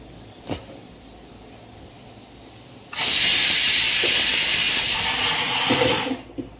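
Whole spices such as cinnamon, star anise, cloves, peppercorns, bay leaves and cardamom hit hot oil with cumin for pulao tempering, setting off a sudden loud, sustained hiss of sizzling that runs for about three seconds before fading out.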